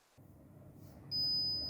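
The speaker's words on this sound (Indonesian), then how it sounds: "ketika terdeteksi adanya api, maka buzzer akan menyala" Fire detection alarm buzzer on a small IoT project board, a single steady high-pitched electronic tone that switches on abruptly and holds over a faint low hum, with no talking.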